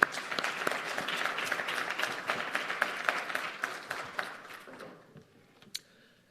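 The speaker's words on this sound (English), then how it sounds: "once again, a round of applause for our panelists" Audience at an African science and innovation conference applauding panelists, a lively burst of many clapping hands that gradually fades out, with a lone clap near the end.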